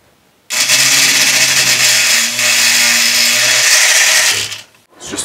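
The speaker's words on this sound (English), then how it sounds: "the first thing you would do is drill a hole in the rib" A power drill whines loudly and steadily into a wooden rib of a model ship for about four seconds, drilling a starter hole, then winds down and stops.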